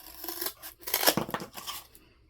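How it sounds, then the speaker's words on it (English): Scissors snip through a flexible resin mold in a few quick close cuts, crisp rasping strokes in a short burst over about two seconds, with no talk. "I think I might just take my scissors"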